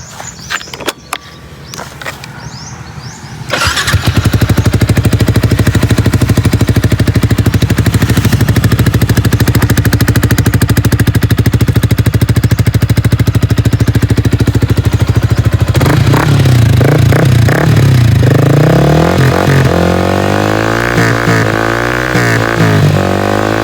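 A motorcycle fitted with an Akrapovic carbon muffler on a universal 38–51mm exhaust starts up and runs loud and close, holding a steady idle before rising and falling revs near the end.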